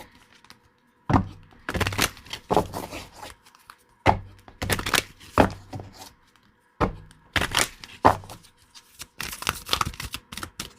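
Tarot cards shuffled by hand in a close, quiet room: repeated crisp riffling and flapping bursts, each followed by soft thumps as the deck is squared, with short silent gaps between.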